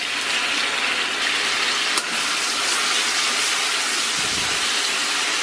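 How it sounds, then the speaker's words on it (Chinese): Scallion and ginger sizzling in a little hot oil in a wok, a steady loud hiss that carries on without pause and with no talking, plus one brief clack partway through. "给锅里边稍微来点油，咱们准备葱姜爆香"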